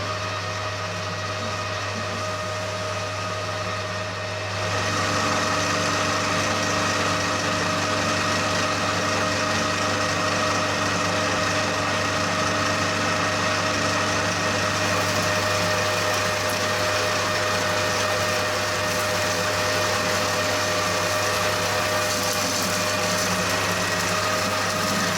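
A metal lathe machining a sandblaster metering valve fitting gives a steady mechanical hum with a constant whine. It steps up louder after about five seconds and holds evenly, with no talking.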